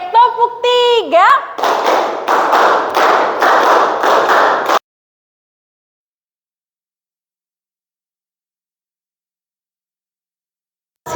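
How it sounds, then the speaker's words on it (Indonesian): Class of students clapping together on a teacher's call, a quick series of sharp group claps in a brisk rhythm after a spoken cue, then silence. "Oke, tepuk tiga."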